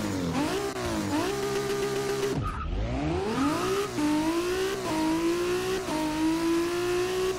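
A 900-horsepower all-wheel-drive Toyota Supra drag car in Forza 6 roars through hard acceleration, its engine pitch climbing repeatedly and dropping at each quick gear change, loud and close with a brief squeal.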